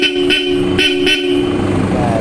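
Bosch Europa horns fitted to a Toyota Hi-Ace blare loudly and close by, several short honks followed by a longer held note, with a voice heard under them.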